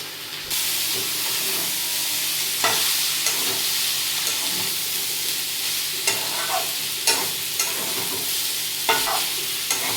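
Boiled cauliflower stalks hiss and sizzle in hot oil with turmeric and green chilli, while a spoon scrapes and stirs the pan in repeated knocks and scrapes over the steady frying.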